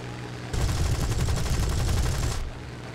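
A bomber's rear gunners fire at a Yak-9T in War Thunder, a loud, unbroken rattling machine-gun burst lasting about two seconds before cutting off to engine drone.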